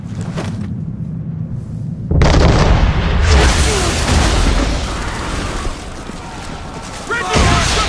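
Chain shot cannon fire in Assassin's Creed 3: a heavy broadside of booming blasts erupts suddenly and rumbles on loudly, and a second boom comes near the end, with shouting voices mixed in.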